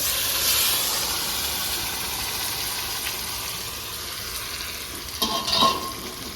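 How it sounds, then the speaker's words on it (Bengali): Marinated mint chicken goes into a pan of browned onions and fries with a steady, close hiss and sizzle, ending in a few sharp clatters of stirring near the end. "মুরগি মাংসটা ম্যারিনেশন করে রেখেছিলাম সেটা দিয়ে দেবো"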